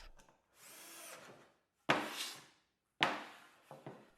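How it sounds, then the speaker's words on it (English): A power drill pre-drills and drives screws into a plywood cabinet platform, three close, loud whirring bursts with short pauses between them, the last trailing off in a brief rattle. "pre-drill and drive some screws in to hold everything tightly together"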